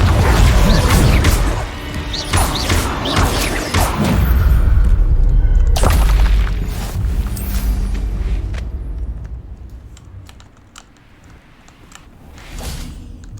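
Confringo and Incendio spell blasts in the Hogwarts Legacy video game: a series of loud booming, crashing impacts with whooshing bursts, densest early and thinning out toward the end, with a final blast near the close.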